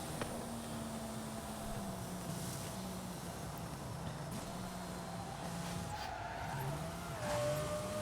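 Lamborghini Murciélago racing in Forza Horizon 5, a steady engine drone with shifting pitch and tyre squeal throughout, continuous and fairly loud with no talk.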